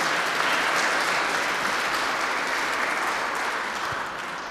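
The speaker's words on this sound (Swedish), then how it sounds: "En varm applåd för PC och Ingrid." Warm audience applause at a book evening event, dense sustained clapping from a seated crowd that holds steady and then tapers slightly toward the end.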